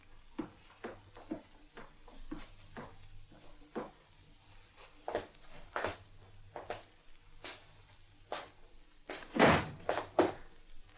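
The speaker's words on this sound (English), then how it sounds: "Did you close the front door?" A series of wooden thunks and knocks sounds around a front door, ending in a louder closing slam near the end, with sharp separate impacts over quiet background.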